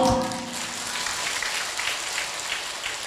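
An audience at a Buddhist Dharma talk applauds. The clapping is dense and sustained, filling the room at a steady level from start to finish.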